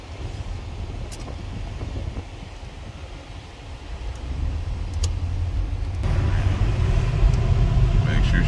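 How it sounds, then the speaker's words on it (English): A Chevrolet Impala drives and shifts through its gears, a continuous low rumble with wind noise that swells louder partway through, while a person talks over it. "Shifting all the gears."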